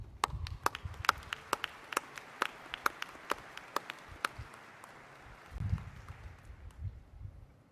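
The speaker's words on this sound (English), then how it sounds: "you should give yourself a round of applause" Applause from the audience at a university commencement ceremony: scattered individual claps ring out crisply and then thin out, with a faint murmur of the crowd underneath.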